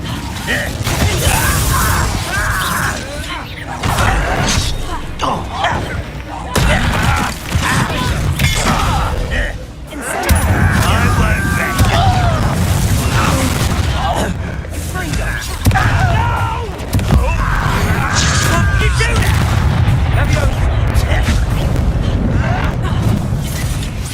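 Incendio fire spell cast during combat in the game Hogwarts Legacy: heavy whooshing bursts and rumbling booms, loud and close, repeating in waves amid clanking mechanical effects and battle noise.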